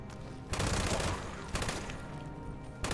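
The Red Terror gun firing in Fallout 76, with three loud sustained bursts of rapid automatic fire, the longest in the middle, separated by short lulls, close and dominant throughout.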